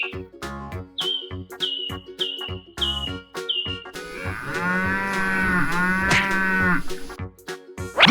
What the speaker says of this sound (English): The herd of cows bellowed.